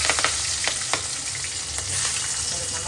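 Chillies dropped into hot oil already crackling with cumin, a loud steady sizzle and fry with a few sharp pops near the start, close up and with no talking.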